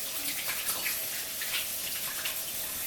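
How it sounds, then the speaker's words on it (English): Tap water runs steadily as hands are washed in a kitchen sink, a soft continuous splashing hiss with small irregular variations, faint and close. "Okay, wash your hands."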